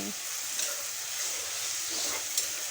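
Pieces of fish fry in a pan for an iftar meal, a soft continuous sizzle with a few brief scraping stir sounds, fairly quiet and heard without talking.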